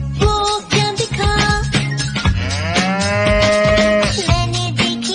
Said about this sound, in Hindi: मैंने देखी गाय,